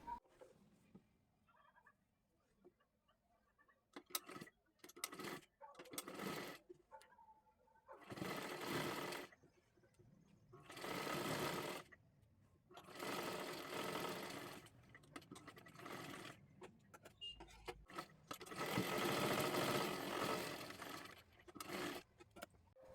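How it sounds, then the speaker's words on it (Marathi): Sewing machine stitching a seam to attach a sleeve on a kurti top, running in repeated bursts of a few seconds each with short pauses between, fairly close and clear, no talking. "त्याच्यावरतीच परत अजून एकदा इथे आपल्याला एक शिलाई मारून घ्यायची आहे"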